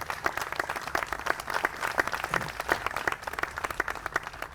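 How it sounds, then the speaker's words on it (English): Audience applause at a City of Richmond housing grant announcement, a steady round of clapping from a modest crowd with distinct individual claps, moderately close and continuing for several seconds. "let's give our leaders a great round of applause"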